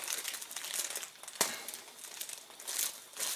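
Stiff wax paper sold as gun wrap crinkles and crackles steadily as a package is pulled open, with one sharp louder crunch partway through and bursts of rustling near the end, close and alone.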